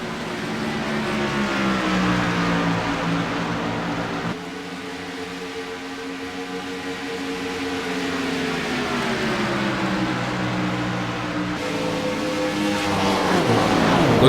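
Race cars roar around the track at Kansas, engines droning and shifting pitch as they pass in a continuous loud stream, with no break in the engine noise.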